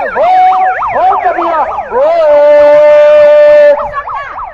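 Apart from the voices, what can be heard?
emergency vehicle siren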